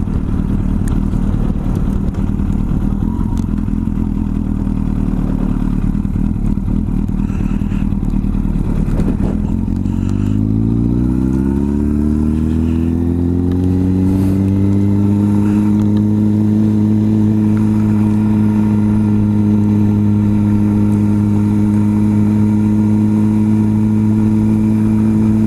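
A motorcycle comes up fast nearby, its loud engine note rising and climbing in pitch from a rough idle into a strong sustained drone that dominates to the end, with no talking.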